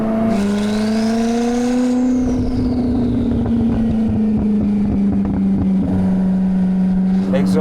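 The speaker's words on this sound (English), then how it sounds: "Exhaust sounds good. It's quite loud, isn't it?" Koenigsegg CC850 exhaust while driving: a loud, continuous engine drone that rises in pitch as the car accelerates early on, then holds a steady throaty note with rapid pulsing through the rest.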